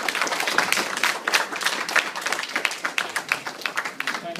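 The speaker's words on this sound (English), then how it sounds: "Please give Brother Alvin a big round of applause for his support." Audience applause breaks out for Brother Alvin at a community gathering, a dense, steady wash of many hands clapping close and loud for several seconds.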